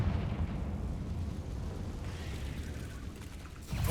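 A Confringo fire spell blast from the Hogwarts Legacy video game roars loud and close as a dense, continuous rush of fiery explosion noise that swells again near the end.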